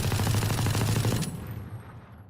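A quick automatic burst of gunfire from a crouched position in the shooter game Valorant, lasting about a second, then cutting off into a short fading tail.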